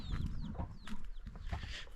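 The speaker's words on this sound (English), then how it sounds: "It's a chicken it is just with the children looking for food." Chickens cluck close by as they forage for food, with brief bird chirps over a steady outdoor rumble.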